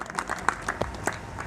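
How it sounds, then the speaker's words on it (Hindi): Scattered audience clapping during a religious Mahabharata discourse, a short burst of uneven claps from a small group, with some voices beneath. "ताली बजाओ भाई बाबा की"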